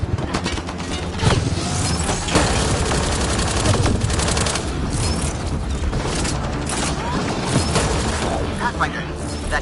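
Gunfire in a Mass Effect Andromeda battle, dense and continuous, rapid automatic bursts and mechanical clatter layered with booms, loud and close, with shouted voices amid the combat.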